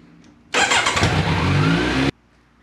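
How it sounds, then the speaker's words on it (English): A motorcycle taken out of gear into neutral is started, its engine bursting loud and close for about a second and a half before cutting off abruptly into quiet. "and then you can start the bike again."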